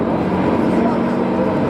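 A vintage aircraft engine at the Duxford Flying Legends air show gives a dense, continuous droning roar, loud and unbroken for the whole brief moment.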